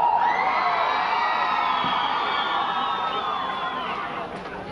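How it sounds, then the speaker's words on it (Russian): An audience at a city day concert in Reutov cheers and whoops, a crowd roar with shouts rising and holding loudly, then easing off slightly near the end. "Вам аплодисменты!"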